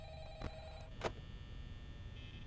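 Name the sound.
phone ringing, Phone Guy's call in video game Five Nights at Freddy's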